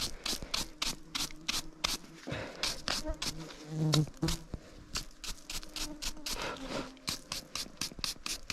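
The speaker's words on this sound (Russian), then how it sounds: "О, комарье заедает." Mosquitoes whine in a hot forest during a wartime relic dig, a thin insect buzz running under rapid scraping and rustling of brushing and digging close by.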